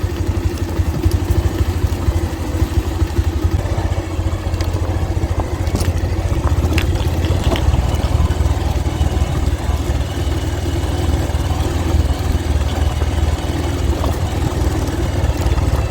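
A vehicle engine runs with a steady, low, close rumble as it pulls forward on its own without throttle, the tone staying even throughout.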